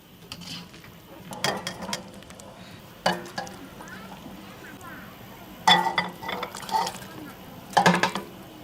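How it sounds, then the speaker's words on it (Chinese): Boiled dumplings ladled out of a pot into shrimp and seaweed soup, with sharp metallic clinks and scraping in a few separate bursts over a quiet kitchen background. "饺子煮熟了，捞到虾米紫菜汤里"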